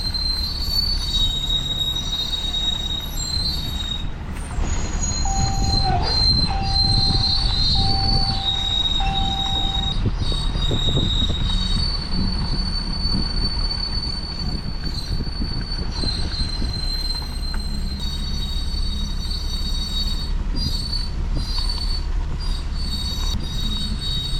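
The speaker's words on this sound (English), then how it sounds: "Something is making a squealing sound." A sustained high-pitched squeal from an RV rises over a steady low rumble, with a brief tonal whine partway through and continuous mechanical noise throughout.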